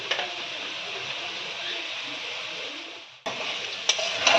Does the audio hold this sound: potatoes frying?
yes